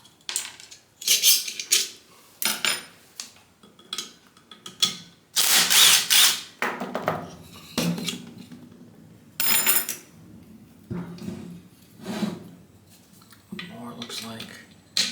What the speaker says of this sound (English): Put all those in my dish there.